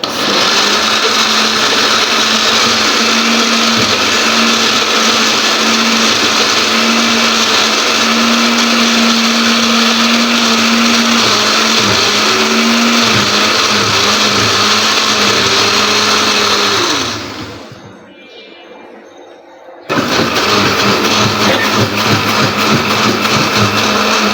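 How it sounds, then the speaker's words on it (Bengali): A blender whirs loudly and steadily, blending tandoori sauce with green chillies, then cuts out for about two seconds before starting again at full power. "এবার আমি এটাকে খুব ভালো করে ব্ল্যান্ড করে নেব"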